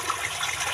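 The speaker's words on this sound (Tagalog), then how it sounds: "palabasin na natin tubig dito" Water being let out and flowing in a rushing, even wash of broad hiss and gurgle, close and steady throughout the brief moment, with no voices.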